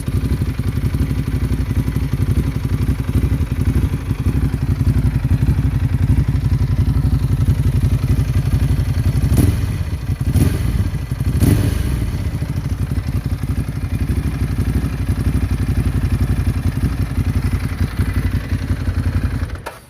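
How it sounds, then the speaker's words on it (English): A Ducati Hypermotard 821 SP motorcycle with stock exhaust idles steadily and loudly with a low, rumbling exhaust throb, plus a few brief clattering knocks midway through. "I'm just gonna give you an idle sound also"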